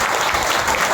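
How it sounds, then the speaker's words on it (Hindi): A church congregation claps together in steady, continuous applause throughout, dense and evenly loud, with no voices rising above it. "इसके लिए ताली बजाओ"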